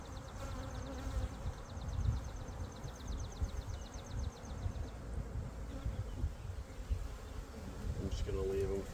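Honey bees buzz steadily inside a nuc hive that is being combined with another by the newspaper method, a close, continuous insect hum with low rustling and handling noises throughout.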